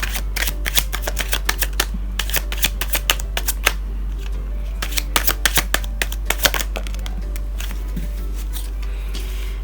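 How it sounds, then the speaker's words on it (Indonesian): Tarot cards being shuffled and drawn for a reading, a rapid run of crisp riffling snaps and flicks, close and fairly loud, over a low steady hum. "kita akan ambil tiga"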